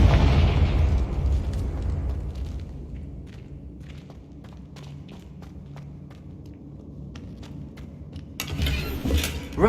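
Confringo fire spell explosions in Hogwarts Legacy, a heavy booming blast at the start followed by scattered pops and thuds, with another loud burst rising at the end.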